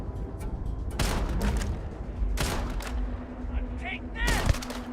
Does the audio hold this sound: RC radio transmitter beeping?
no